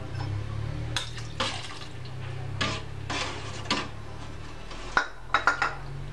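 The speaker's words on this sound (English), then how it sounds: "After boiling, pour in the coconut milk and stir slowly." A spoon scrapes and taps against a pot of coconut milk in slow, uneven strokes over a low steady simmering hum, with a few sharper clinks near the end.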